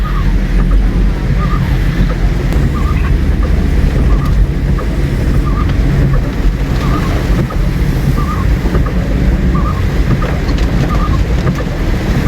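Heavy rain pours with flowing water in Baguio City, a steady, dense, loud roar that holds unbroken throughout, with no talking.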